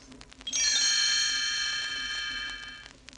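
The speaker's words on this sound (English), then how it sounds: "it is time to turn the page when Tinker Bell rings her little bells like this." A bright, shimmering chime of little bells on a 1968 Disneyland read-along record rings out after a brief pause, sustaining evenly for a couple of seconds before fading.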